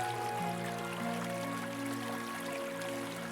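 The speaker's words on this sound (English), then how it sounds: "Listen to the distant sound of a bubbling brook, its waters flowing smoothly over smooth stones" Distant bubbling brook flowing over smooth stones, a soft steady trickle under a faint tonal hum, even and calm throughout with no voices.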